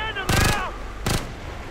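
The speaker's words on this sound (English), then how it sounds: "Whoa, being shot at." Gunfire sounds in the video game Ghost Recon Future Soldier. Two quick bursts of shots ring out close together, with a voice heard between and around them.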